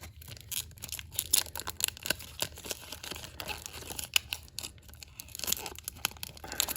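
A 1994-95 Donruss NHL hockey card pack is torn open, giving close, quiet bursts of tearing and crinkling foil wrapper in irregular rapid clusters, with no voice over it.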